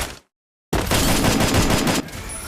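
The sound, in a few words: gunfire in a video game shooter, headshot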